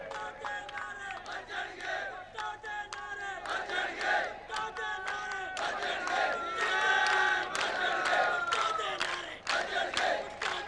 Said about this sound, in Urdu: وہاں بھٹو دے نعرے وجدے ہیں، بھٹو جیے بھٹو